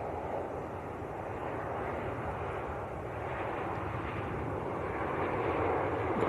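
A TUI airliner on final approach to Manchester Airport gives a steady, broad engine roar that holds evenly throughout and swells slightly louder toward the end.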